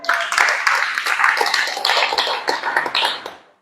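A church congregation at a visitation gathering breaks into brief clapping, a dense close patter of many hands that fades out after a few seconds.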